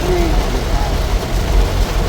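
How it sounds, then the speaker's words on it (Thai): Steady rain falls close by near a sugar factory at night, a dense, even wash of drops with a low rumble underneath, continuous for the short stretch without any voices. "ตอนนี้ฝนตกแหงพี่น้องจะได้ยินเสียงบ่"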